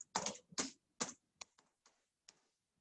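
Laptop keyboard keys tapped while typing a web address, a handful of crisp, close clicks in an uneven rhythm over near silence, fading toward the end.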